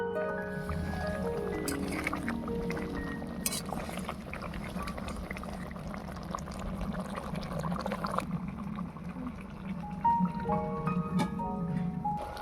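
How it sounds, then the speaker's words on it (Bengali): Chicken for chicken moharani cooks in a pan in its own juices, with no added water, while it is gently stirred. Faint wet squishing, dripping and soft bubbling continue steadily at close range. "হালকা হাতে নাড়াচাড়া করে চিকেনটাকে কষিয়ে নেব।"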